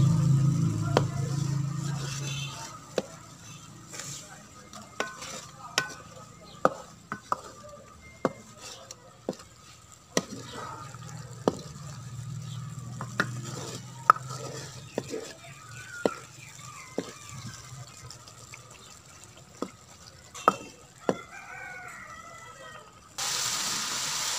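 Masala with chilli and turmeric being stirred in a pan for a chana dal and pumpkin curry: repeated sharp spoon scrapes and taps against the metal pan at an irregular rhythm, with a low background hum and occasional faint murmurs.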